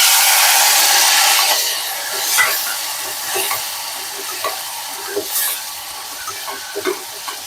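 Whole chillies, cumin and ajwain sizzle loudly in hot oil, with a dense hiss settling down as a spoon scrapes and stirs the pan in irregular clinks and scuffs, close up and without talk.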